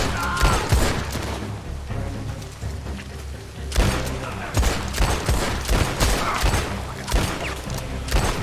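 Gunfire in the video game Red Dead Online comes in bursts of loud repeated shots and booming cracks, with rapid volleys and short pauses across the span.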